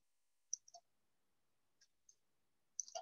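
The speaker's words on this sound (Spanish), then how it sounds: "Damos clic." Sparse computer mouse clicks, single and doubled, crisp and close in an otherwise silent room.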